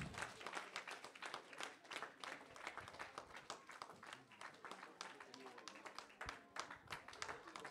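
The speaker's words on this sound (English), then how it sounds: "Please clap for all our grandmas." A crowd at a Christmas brunch applauds with a dense, sustained patter of clapping that holds steady for several seconds, with some voices mixed in.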